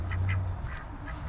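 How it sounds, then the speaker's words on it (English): A few ducks quack in a pen near a chicken hut at a trades day market in Mississippi, several short nasal quacks in quick succession over a low outdoor hum, moderately close. "And she's got a few ducks here."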